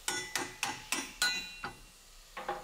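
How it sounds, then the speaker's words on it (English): A hammer taps a safety bolt through the frame of a 2022 Toyota Tundra while recovery points are installed, seven sharp metallic strikes in a steady rhythm, with a short pause before the last two, close and clear. "use the hammer to kind of push it through"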